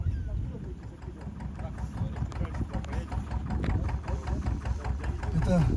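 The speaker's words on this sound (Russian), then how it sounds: "у них моторы маленькие, мало кубов, и они работают потопад" A small-displacement fishing boat motor idles on a river near the Mediterranean coast in Turkey, giving a close, steady low chugging with a knocking rhythm throughout.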